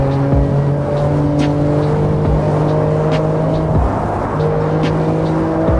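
A 730hp BMW M4 Competition G82 drives fast, its engine droning steadily with shifting tones and loud, constant road and wind roar throughout.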